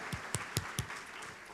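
A church congregation clapping during a worship service, four or five distinct claps in a loose rhythm within about a second, then a faint scattered patter.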